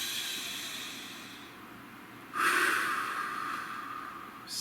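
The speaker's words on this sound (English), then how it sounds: "Nice deep breath." A slow, deep breath taken in a quiet room, a soft airy inhale swelling midway and easing out, faint and close, with a brief fresh breath starting at the very end.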